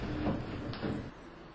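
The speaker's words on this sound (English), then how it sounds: "Doors closing." Elevator doors sliding shut in the Roblox game MeepCity, a soft mechanical whoosh and rumble lasting about a second before settling into quieter room tone.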